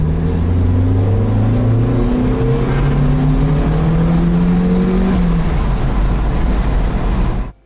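A Mazda MX-5 NA Miata fitted with a custom cold air intake roars at full throttle, its loud engine note climbing steadily and holding close to the microphone for several seconds before cutting off abruptly.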